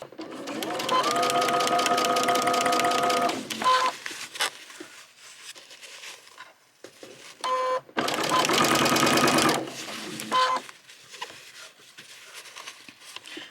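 A domestic sewing machine stitches piping into a seam for an 1830s-style garment: two loud bursts of fast, steady stitching separated by a quieter stretch with a person talking and small handling clicks.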